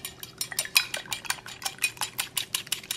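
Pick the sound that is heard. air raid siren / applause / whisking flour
whisking flour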